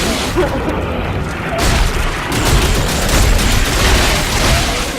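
Red bomb explosion in the video game Dead Space 3: a loud, sustained roaring blast with rumbling waves that swell and hold across the whole moment, dense and close.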